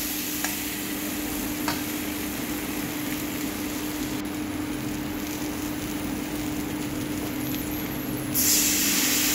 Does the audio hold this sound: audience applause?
no